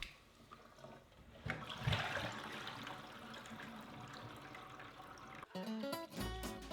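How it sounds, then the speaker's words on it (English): Running cold water splashes and pours steadily over boiled pork rinds for several seconds, fairly quiet, with a brief clatter near the end. "I was rinsing them out with cold water to stop them cooking and going mushy anymore"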